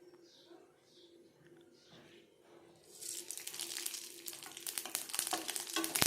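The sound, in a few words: dried chili, spices and bay leaf frying in white oil in wok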